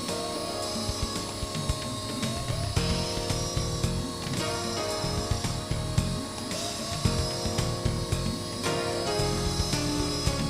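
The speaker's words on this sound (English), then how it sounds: "This is like riding a little rodeo on a helicopter." A Blade SR radio-controlled model helicopter flies in a front yard, its small motor whining continuously with ratcheting, mechanical rotor chatter and buzzing that surges and dips as it moves, fairly close and with no talking.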